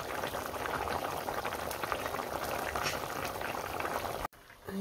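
A pot of vegetable curry bubbles at a vigorous rolling boil, a steady dense burble close by, with no talk, ending in a brief dropout.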